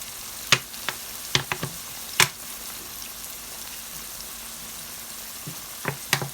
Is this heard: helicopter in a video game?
no